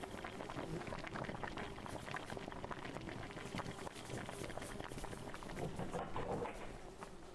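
A body simmers in a cooking pot in the horror game The Harvest, giving a dense, steady bubbling and churning rumble that holds at an even, moderate level throughout.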